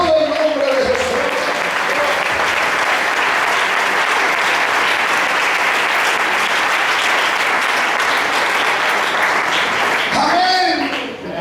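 Congregation at a church spiritual retreat applauds with loud, dense, sustained clapping filling the room for about ten seconds. A voice speaks briefly at the start and again as the applause fades at the end.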